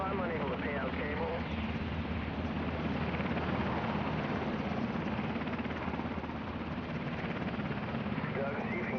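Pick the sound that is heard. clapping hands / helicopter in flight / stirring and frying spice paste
helicopter in flight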